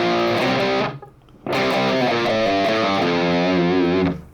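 A distorted electric guitar plays a 1985-style hard rock riff, with pull-offs to the open A and notes on the low E. Thick sustained notes ring out, stop for a short gap, then return and hold before cutting off.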